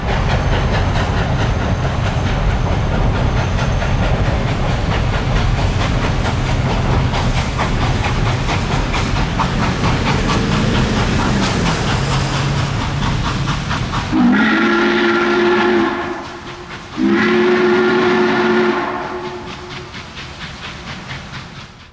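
Norfolk & Western 611 steam locomotive pulling the Limited into Goshen, a loud continuous rumble and chuff of the train rolling past, then two long, loud blasts of its deep steam whistle near the end.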